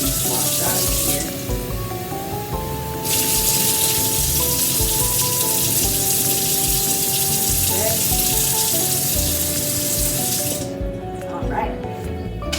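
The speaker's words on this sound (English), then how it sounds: "I'm trying to get all these seeds washed out of here." Running tap water pours steadily into a sink while seeds are rinsed out, a continuous close splashing hiss under faint background music, briefly cutting off near the end before a few drips and clinks.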